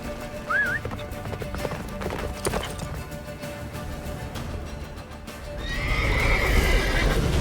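Roach the horse from The Witcher 3 video game gallops with a steady run of hoofbeats and whinnying neighs, close and continuous, growing louder and busier near the end.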